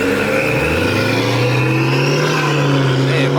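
A car engine revs loudly and close by, its deep tone climbing steadily with no voices over it.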